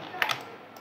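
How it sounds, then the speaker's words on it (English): A few soft computer keyboard key presses, Alt and Shift, come as two quick close taps and then a faint click, with no talking. "We will press Alt and Shift on our keyboard and we will resize it."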